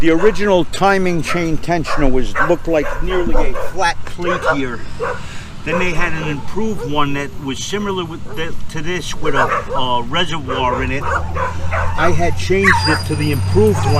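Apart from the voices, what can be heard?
dogs barking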